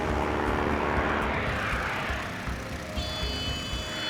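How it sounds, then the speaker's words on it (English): The steady propeller engine drone of a WWII-era seaplane on final approach to a remote dirt airstrip in Canada, heard from inside the cabin as a dense continuous roar, with a thin whine joining near the end. "You can feel the aircraft slowing right down."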